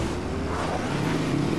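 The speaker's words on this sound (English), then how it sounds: "you hear that bitch shifting, Zayda?" A video-game car engine revs with a continuous loud roar and rising tone suggesting a gear shift, close and steady, with no talk over it.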